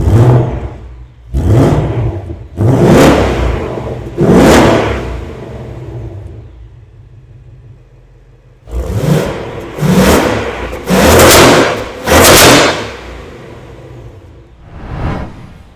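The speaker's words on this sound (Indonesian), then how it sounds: "kita dengerin suara Ford Mustang yang mesinnya 5000 cc V8 naturally aspirated." A naturally aspirated 5000 cc V8 in a Ford Mustang GT revs hard in repeated loud bursts, each rising and falling sharply, with a quieter idling stretch in between and a final fading rev.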